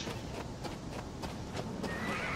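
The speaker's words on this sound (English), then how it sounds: "Fucking horse just scared the shit out of me" A horse in the survival video game Rust gives a sharp neigh over the clip-clop of hooves, close and startling against quiet in-game ambience.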